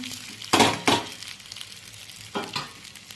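Corn chevdo is mixed in a pan with a few distinct bursts of scraping and clinking as the spoon moves through it, two quick strokes then a pause and two more, over a faint sizzle.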